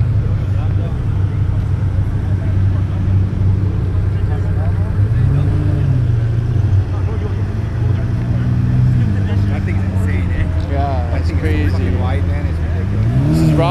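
Several powerful sports car engines, including a Lamborghini Huracan, rumble and rev nearby at a pre-rally gathering, pitches rising and falling over a steady loud drone, with occasional talk underneath.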